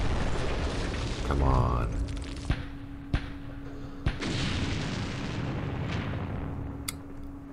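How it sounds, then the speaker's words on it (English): Mortar shells burst in the Campaign Series Middle East war game as a few sharp, loud booms over a continuous rumbling battle bed, with someone speaking briefly. "Here comes some mortars."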